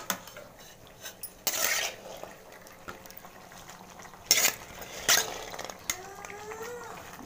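Boiled chickpeas tipped into vegetable kurma in a metal pot, with clattering spoon-on-pot knocks and scraping stirs in a few separate bursts, plus a soft simmering hiss between them, close and fairly quiet.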